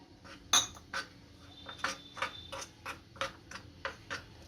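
A spoon clinks and scrapes against a bowl while mixing ground spices and water, in a steady series of light, quick taps, close by with no talking.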